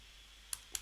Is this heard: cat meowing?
no